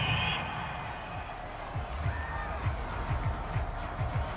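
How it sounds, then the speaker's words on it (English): A home crowd in the Madden 22 football video game cheers a referee's call, a faint, steady roar of distant stadium noise with a few rising swells. "This home crowd, they're happy with that call."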